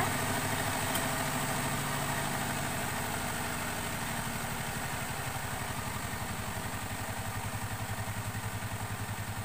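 A repaired washing machine motor spins at home, a steady close mechanical hum that builds into a rapid, even rhythmic pulsing as it turns.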